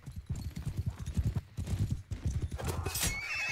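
In a video game battle, a horse whinnies while hooves clip-clop rapidly and continuously, the galloping beats layered with battle noise and someone talking over the action.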